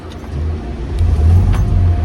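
A car engine rumbles low and steady, swelling slightly as it catches and settles into a running idle, close by.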